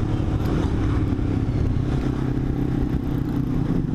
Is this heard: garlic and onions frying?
no